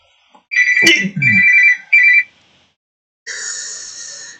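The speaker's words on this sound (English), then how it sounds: "there's that alarm" An electronic alarm rings in a few loud, close bursts of shrill, tonal beeping with short gaps, then a higher steady tone sounds after a pause.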